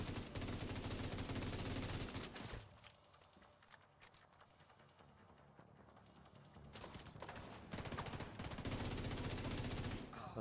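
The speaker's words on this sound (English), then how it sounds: "That's where I was getting shot from." Rapid automatic gunfire in the shooter game The Division 2 rattles in loud sustained bursts, eases into scattered distant shots mid-way, then returns as heavy continuous fire.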